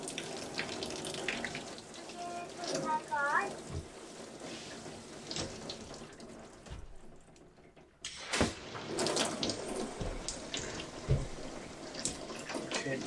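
Hot water from a propane heater runs in an off-grid shower, a steady hiss of spray that briefly cuts out and then resumes, with a faint voice over it.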